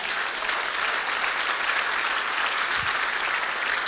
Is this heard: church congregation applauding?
yes